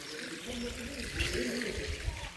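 Soft, steady trickle of water running off a Shiva lingam in a temple, fairly close, with a faint voice and low background noise mixed in.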